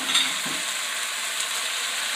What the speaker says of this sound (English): make sure you stir it. And keep turning, keep tossing until the vegetables become slightly softer